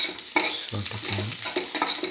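Beef liver sautéing in a pan with garlic and salt, a utensil stirring and scraping through a light sizzle, close and steady for a couple of seconds with no voices.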